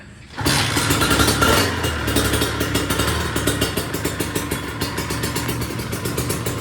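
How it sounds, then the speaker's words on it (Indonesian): A red Kawasaki Ninja RR two-stroke motorcycle fires up and settles into a loud, close idle, its rapid, slightly uneven pulsing engine note running steadily without speech. "Ini mesinnya kalau menurut saya sih lumayan halus ya."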